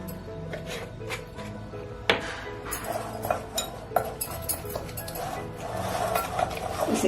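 Mint chutney, besan and cumin being mixed in a bowl with a spoon, giving soft rubbing and stirring under repeated light clinks and taps against the dish.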